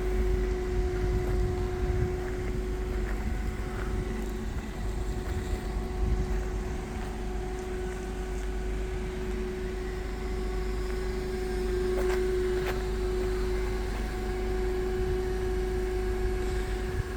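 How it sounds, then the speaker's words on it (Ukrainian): A Toyota forklift working a Bolzoni roll clamp, its engine a steady, fairly loud drone with a constant low hum that holds throughout, with only slight swells and no talking. "Ось так працює рулонний захват."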